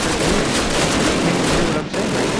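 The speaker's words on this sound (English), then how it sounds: "you get to use the MG42 and mow down Germans" An MG42 machine gun in the World War II shooter Call of Duty fires a steady, dense stream of rounds that merges into one continuous roar, loud and unbroken through the whole burst with only a momentary dip near the end.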